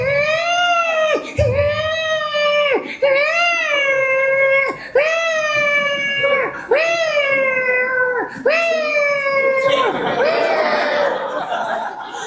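A voice imitates a newborn baby's loud, wailing cry in six or seven long, rising-and-falling bursts separated by brief breaths, ending in a noisier, rougher wail.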